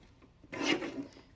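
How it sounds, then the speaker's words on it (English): A single short rasping slice as scrapbook paper is cut on a paper trimmer, quiet and close, lasting about a second. "the larger piece that fell, we'll trim at 11 1/4"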